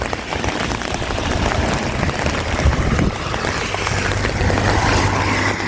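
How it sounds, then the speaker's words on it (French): Steady rain falls in Saint-Brieuc, a dense, even patter that is close and fairly loud, continuing without pause and with no voices. "Il pleut."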